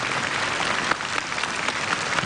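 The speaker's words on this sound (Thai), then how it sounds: "Let us all give a hearty round of applause to show our appreciation to all our distinguished guests." A hearty round of applause from the audience at a Buddhist leadership award ceremony, dense and continuous clapping from many people filling the room at a fairly loud, even level.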